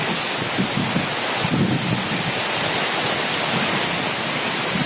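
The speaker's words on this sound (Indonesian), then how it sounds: "Hujan angin lur" Heavy rain and wind lash a corn field in a steady, loud broadband roar, with gusty surges rising and falling throughout and no voices.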